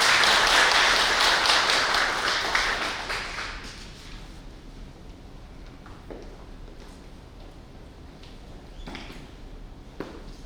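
Audience applause at a Korean forum lecture, a loud broadband wash of clapping that swells at first and then fades away over several seconds, leaving a quiet room with a few scattered taps.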